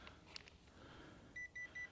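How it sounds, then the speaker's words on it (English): HPBS 5000A jump starter with air compressor sounding an error warning: three short, evenly spaced high-pitched beeps, faint and alone in a quiet room. "it's beeping, it's going to error out"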